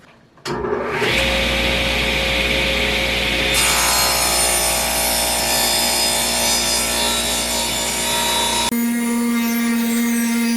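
Power saw ripping a glued-up pine blank into square table-leg stock starts up, then cuts with a loud, sustained whining roar that holds steady for several seconds before the blade pitch drops as the cut ends; no speech.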